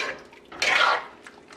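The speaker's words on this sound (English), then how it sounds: "I know people don't complain, Chris, that spoon making noise when it rubs the pot." A metal spoon scrapes and rubs against a cooking pot while lobster callaloo soup is stirred, a brief grating swell mid-clip with faint watery clinks around it, close and fairly quiet.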